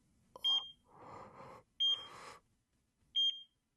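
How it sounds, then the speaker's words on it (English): A hospital monitoring device in the game Chaos;Child gives three short, piercing electronic beeps at even intervals, with soft rustling bursts between them in an otherwise quiet room. "I could hear a monitoring device near her, beeping at regular intervals"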